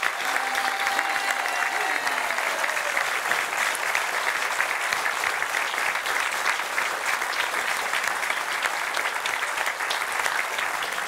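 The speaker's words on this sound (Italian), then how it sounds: "Et le Mexico de José," Sustained audience applause for José's Mexico during a clapping vote at a Les Cyrnéennes / I Mantini show, a continuous even wash of clapping from a crowd, with a brief faint tone near the start.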